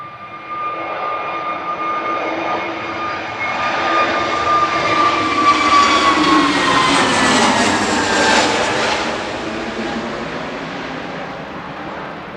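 An Airbus A321neo rolls for takeoff at Manchester Airport, its jet engines building to a loud, sustained roar with a high whine that swells through the middle and then eases slightly.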